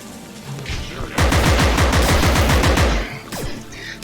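Enemy AI in the video game Compound fires a rapid burst of loud gunshots that lasts about two seconds, followed by a couple of quieter shots.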